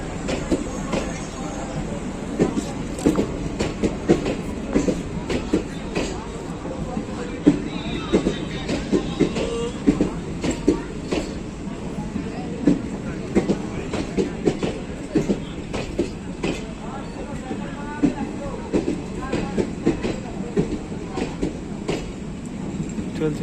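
An old-coach Ballia–Shahganj passenger train runs with steady rolling rumble and repeated rhythmic wheel clatter over rail joints, with faint voices in the background.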